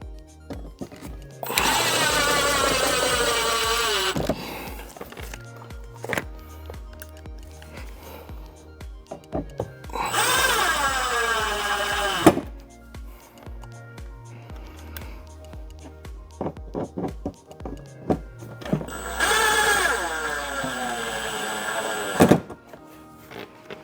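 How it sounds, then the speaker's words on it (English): A power drill drives screws to fasten a cover onto an enclosure in three separate close bursts, each a whirring that winds up in pitch and stops with a thunk. Quieter handling noises fill the gaps between bursts. "We're gonna screw this guy down to cover that up."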